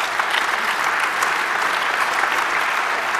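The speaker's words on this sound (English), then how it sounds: "I think that deserves a round of applause for these courts" Dense, even applause from a conference audience fills the hall for a few seconds, loud and steady, with no voices over it.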